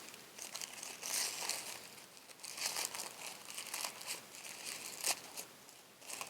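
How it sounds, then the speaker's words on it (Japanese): Thin Japanese tissue paper sheets for a New Year origami flower decoration are peeled apart and lifted one by one, giving steady close crinkling and rustling with brief louder crackles. "お花紙を1枚ずつ剥がして、そーっと上に持ち上げていきます"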